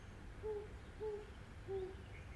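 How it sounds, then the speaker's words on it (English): An owl hooting three times at an even, unhurried pace, soft low hoots sitting over a quiet background hiss. "the owl lands softly on the outside ledge, hooting happily"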